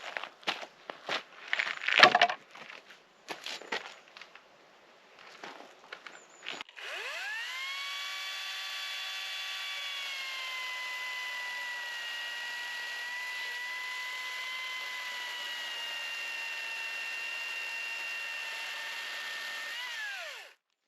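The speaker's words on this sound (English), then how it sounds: "The chainsaw definitely rips away lots of the wood" A few clunks and rattles, then a chainsaw starts and runs steadily at high revs cutting dense wood for a long stretch before winding down.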